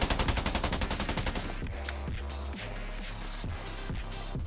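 Automatic weapon fire in the battle royale game Scarfall 2.0 on the Andaman map, a fast rhythmic burst of shots up front, then scattered heavier shots and action noise continuing at moderate level.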